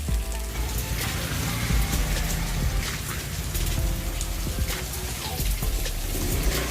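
Heavy rain pours down in a dense, constant roar of splashing drops, loud and unbroken throughout with no voices heard.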